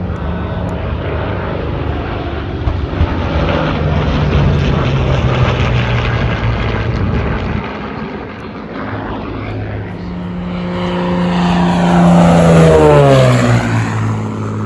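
Propeller-driven fixed-wing aircraft of a squadron flying along a coastline on the way to Oshkosh, a steady loud engine drone that swells as planes pass close overhead, with a sweeping Doppler pitch shift near the end.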